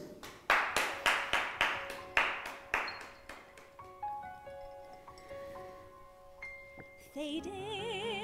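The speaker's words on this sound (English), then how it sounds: "So please get clapping, whooping, holler, cheering, and stamping your feet." A live online show opens with a run of sharp hand claps welcoming a singer, loud and steady for about three seconds before fading into bright, sustained musical tones.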